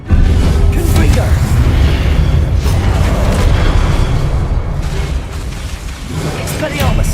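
A Confringo blast spell fired in a Harry Potter video game, a loud sustained booming burst with rumbling debris that fills the whole stretch and tails off slightly toward the end.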